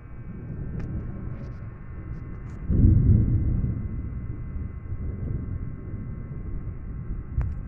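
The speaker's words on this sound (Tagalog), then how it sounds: "Ang sama ng panahon guys, umuulan, tapos kumukulog." A low, rolling rumble of thunder swells midway and fades, over a steady background hiss of rain.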